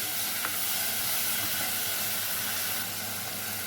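Constant sizzling and hissing of vegetables frying in hot oil for sambar, a steady close-up crackle with faint stirring noises and no talking.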